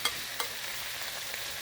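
Vegetables tossed back into a hot pan for a shrimp and pesto pasta, giving a faint steady sizzle with a couple of soft stirring knocks, brief and quiet.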